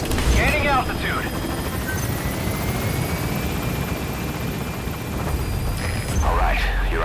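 A military helicopter in the Metal Gear Solid V game climbs away from a landing zone, its steady rotor roar loud and continuous throughout, with brief radio-style voices speaking near the start and end.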